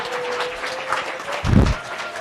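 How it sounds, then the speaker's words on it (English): Spectators at a school mock trial applaud the presiding judge, producing a steady patter of clapping with a faint held tone and a brief low thump partway through. "one more round of applause for Judge Riles"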